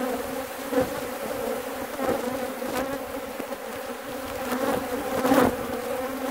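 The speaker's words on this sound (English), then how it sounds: "Now you can see they're not very happy bees overall" A dense swarm of aggressive honeybees buzzes steadily and loudly up close at the front of a hive, individual insects droning past now and then over the continuous hum.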